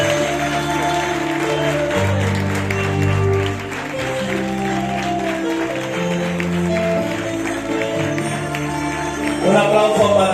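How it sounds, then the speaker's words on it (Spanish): An audience claps at the Angel Models Barcelona 2022 show at the Casal La Aliança in Mataró. The applause is moderately loud and blends with music playing throughout. "Un aplauso para Mr. Cupido."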